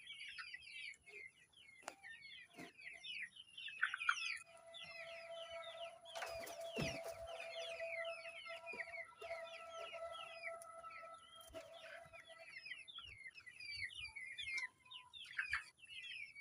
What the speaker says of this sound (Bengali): আমাদের সাথে যোগাযোগ করে আপনাদের কাঙ্ক্ষিত আপনাদের বাহামা মুরগির বাচ্চা